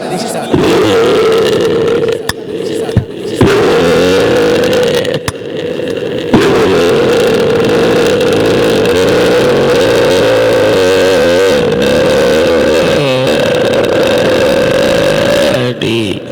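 A voice imitates a motor scooter starting, sputtering and stalling over and over during a live comedy show in Perikhali, Dumuria, Khulna, with a buzzing, engine-like tone broken by short pauses.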